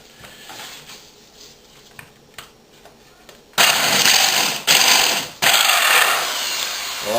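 A power drill whirs loudly in several bursts after a quieter stretch of faint handling noises.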